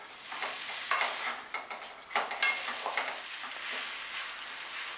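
Noodles for Kolkata-style egg chowmein fry in a pan as a spatula and spoon toss them, producing soft sizzling broken by repeated scraping and clattering strokes at close range.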